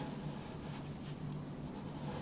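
A Sharpie marker drawing small hill shapes on paper, a soft continuous scratchy squeak with faint stroke bursts, close and quiet with no talking.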